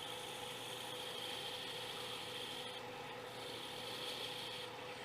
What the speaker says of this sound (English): this is a Cindy Drozda detail gouge, fantastic tool